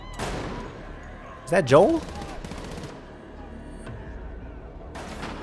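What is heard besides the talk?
gunfire in The Last of Us TV episode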